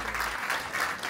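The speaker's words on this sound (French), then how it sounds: "on peut les applaudir extrêmement fort" Audience applause at a live comedy show, a brief, soft burst of clapping from a crowd, faint and somewhat distant, with no voice over it.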